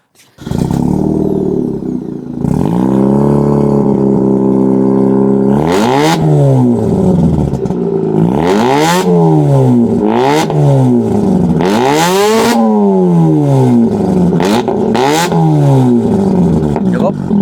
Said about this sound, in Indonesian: Dengerin suaranya dari RX-8-nya Kopanda